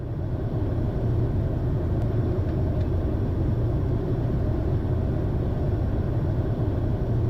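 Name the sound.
airplane landing at St. Martin Airport, heard from the cockpit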